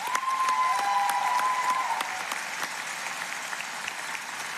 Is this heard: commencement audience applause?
yes